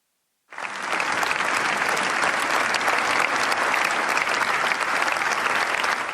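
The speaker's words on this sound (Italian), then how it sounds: "Un lungo e fragoroso applauso ha accompagnato l'ingresso della bara bianca" Long, loud applause from a packed cathedral crowd greets a white coffin as it is carried in at a funeral, a dense, steady roar of clapping that starts abruptly and holds at full strength throughout.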